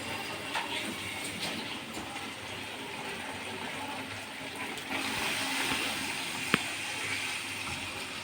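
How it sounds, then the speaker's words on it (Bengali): One glass of water is poured into fried spice paste for a cauliflower dopeyaja curry, giving a steady hissing sizzle and rush of liquid that holds throughout, with a sharp click near the end. "এবার আমি এতে জল দিয়ে দেবো।"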